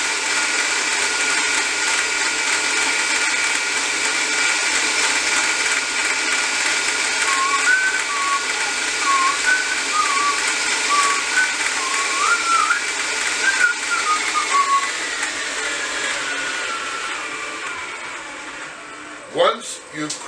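An electric mixer creaming butter for Scottish shortbread hums steadily for about twenty seconds, a whistling motor tone wavering in pitch midway before winding down and clattering at the end.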